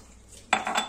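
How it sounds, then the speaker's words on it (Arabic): Cracked green wheat (freekeh) being washed in a bowl gives a sudden clatter at mid-clip, followed by a steady stretch of close, bright scraping and rattling, with no voices. "هنا راح نغسل الفريك تاعي"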